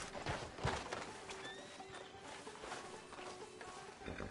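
A horse in Red Dead Redemption 2 whinnies and snorts over steady hoof clip-clops, fairly close and moderately loud, with faint ambient game sounds behind.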